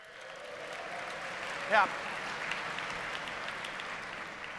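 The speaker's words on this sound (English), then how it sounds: "Round of applause if you're a nerd" Audience at a tech conference grand opening clapping in a broad, steady wash of applause, moderately distant, with a brief louder burst and a short spoken word near the start.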